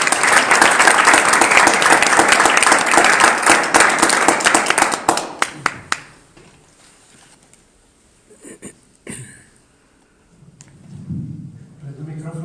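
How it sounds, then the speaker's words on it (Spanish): Audience clapping to welcome a guest speaker at a talk, a dense burst of applause for about six seconds that stops abruptly, followed by quiet room noise and a few faint thumps. "Entonces les invito a recibir con Alejandro un aplauso"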